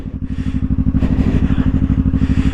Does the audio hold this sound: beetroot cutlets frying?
no